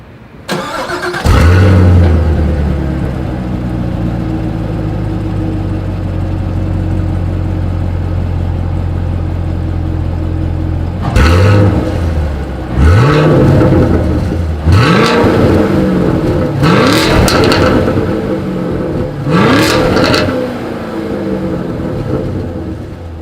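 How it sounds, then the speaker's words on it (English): A 2020 Chevrolet Camaro SS V8 starts with a loud burst, settles into a deep rumbling idle, then is revved five times in sharp rising blips with a throaty exhaust bark, close and loud. "As always, here is that exhaust clip."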